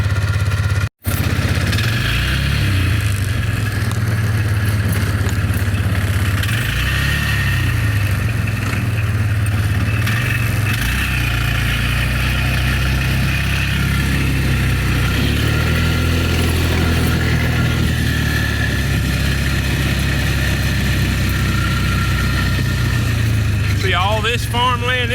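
A car engine runs steadily while driving past farmland, a continuous low rumble with occasional bumps and rattles, and a person talks over it now and then.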